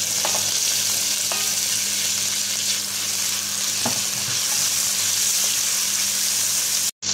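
Garlic and onion sautéing in a pan for a squash dish, a loud, continuous close sizzle with a few soft utensil taps, cut off abruptly at the end.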